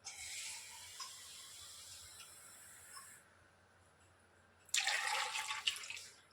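Water is poured from a small copper vessel into a pressure cooker holding a kilo of scored potatoes: a quiet, steady trickle, then a brief louder splashing gush near the end.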